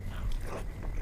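A close bite into naan dipped in paneer butter masala gravy, a short soft crunch and chewing that runs steadily through the whole second.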